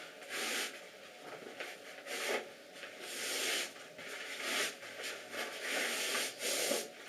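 Paper facing being peeled away from a sheet of foam board, a series of soft close tearing and rubbing strokes in uneven bursts, quiet and alone with no voices.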